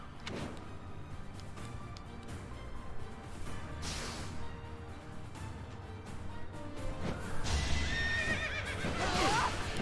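A flying horse neighs and whinnies amid busy battle action in Fire Emblem: Three Houses, with galloping hooves, crashes and a rising burst of noise near the end.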